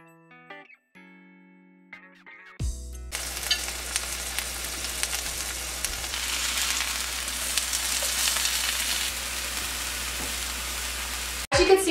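Marinated tempeh bacon frying in grapeseed oil in a cast iron skillet over medium heat, a loud dense continuous sizzle that starts abruptly after a few seconds of brief electronic tones and cuts off right at the end.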